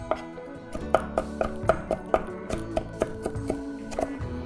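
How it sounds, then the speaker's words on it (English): A knife minces prepared ingredients on a cutting board with rapid, close, rhythmic chops. Tonal clinks ring out with many of the strokes. "Now this is all ready. We can mince it together."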